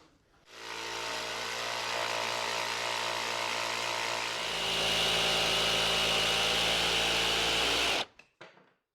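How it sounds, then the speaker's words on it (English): A jigsaw cuts a wooden part for a tall-handled step stool, a loud continuous buzzing whine that starts abruptly, runs steadily for about seven seconds, grows slightly louder midway, then cuts off sharply. "make this cut with the jigsaw"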